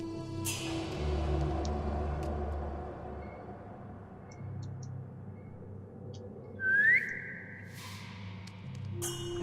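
A single short rising whistle in Assassin's Creed Chronicles: China sounds over a steady low game-ambience rumble, brief and clear against a quiet background.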